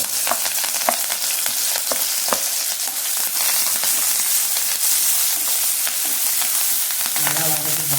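Onions, garlic, green chili, crushed cumin and curry leaves sauté in hot oil over a medium flame for beans and lentil poriyal, a steady close sizzle broken by scraping stirs and clicks of a spoon against the pan.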